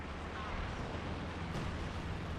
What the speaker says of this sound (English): Katusha firing, but not really hitting all that much